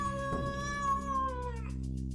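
A cat gives a single drawn-out meow that fades and trails off, set against a low steady hum.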